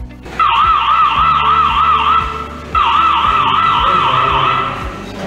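A Dahua body temperature screening system sounds its high temperature alarm: a loud, warbling electronic tone in two long bursts separated by a brief pause.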